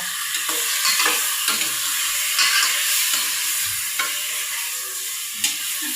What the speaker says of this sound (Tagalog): Ginagawa natin itong pagigisa para mabawasan yung lansa.